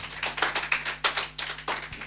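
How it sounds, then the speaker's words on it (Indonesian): A church congregation claps at an evening praise service in a quick, even rhythm of sharp hand claps, fairly close and moderately loud, with no voices heard. "Beri tepuk tangan yang meriah buat Tuhan"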